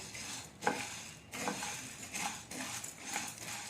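Sabudana, raw peanuts and green chillies stirred in a pan over low gas, giving soft scraping swishes with a few sharper spoon knocks against the metal, close and fairly quiet, no voices.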